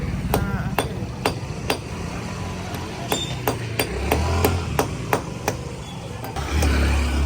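Hammer blows ring out in an irregular series of sharp metallic strikes, close by, with a low engine rumble and some talk in the background.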